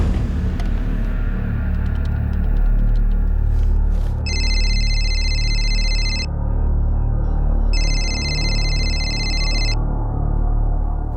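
A landline telephone rings in two long electronic trills separated by a pause, heard over a steady low rumble of background noise.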